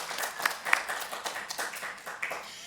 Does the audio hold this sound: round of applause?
yes